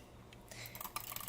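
Quick burst of computer mouse clicks made with a normal click technique for PvP gaming, a faint, close series of sharp ticks starting after a brief quiet lead-in, with no talking.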